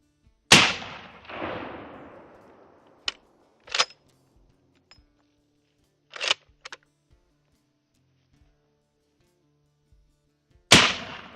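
A Mosin Nagant Scout rifle fires a sharp, loud report that echoes and trails off, followed by scattered quieter clicks and clacks of the bolt, then a second sharp shot near the end.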